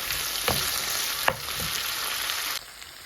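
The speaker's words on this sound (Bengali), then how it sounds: "ভাজার সময় সাথে আমি এই শুটকিগুলো দিয়ে দিব" Dried fish (chepa shutki) frying with potato and eggplant in a pan, a steady crackling sizzle with a few sharp clicks of a utensil against the pan before the noise drops in level.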